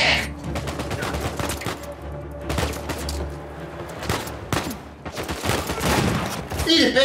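Repeated shotgun blasts ring out in Uncharted 4 gameplay, loud sharp bursts spread unevenly over several seconds amid heavy game noise, with a voice talking over parts of it.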